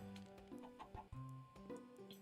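A Minecraft chicken clucks in a quick run of short, pitched, choppy bursts, soft and close, with no talking over them.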